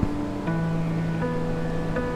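Kozhippara (Kakkadampoyil) waterfall near Nilambur, Malappuram, Kerala: a steady, loud rush of falling water fills the whole moment, with sustained tones sounding over it.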